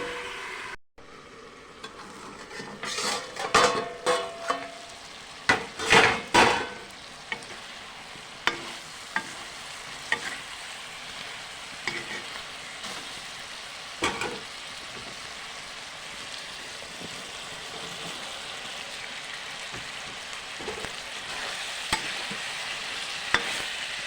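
Duck meat curry with potatoes sizzling in a pan, stirred in a series of scraping strokes early on, then a steady quiet frying hiss with occasional clinks, no talking.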